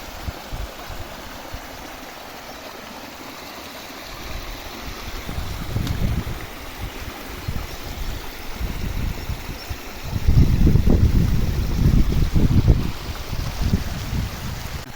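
Rainwater rushes and churns through a dam area in Basti Shaheenabad after a heavy storm, a continuous broadband roar that swells louder in surges midway and toward the end, with no talking.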